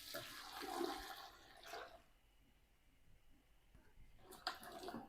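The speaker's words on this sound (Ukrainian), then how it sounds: "переношу на вогонь перець і заливаю його цим маринадом" Marinade sloshes and splashes over peppers in a pot on the stove in two short bursts with a quiet pause between, fairly soft and close.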